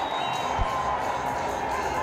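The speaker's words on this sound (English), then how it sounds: "They're on their feet applauding the Irishman who captains England." A cricket crowd at Zayed stadium roars and applauds a six struck by England's Irish-born captain, a steady, dense wash of cheering and clapping that fills the whole stretch without letting up.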